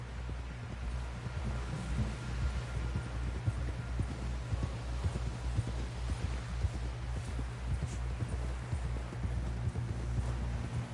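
Hooves of a galloping horse in the Red Dead Redemption 2 video game beat in a quick, steady rhythm over a low rumbling background hum, moderately close and without voices.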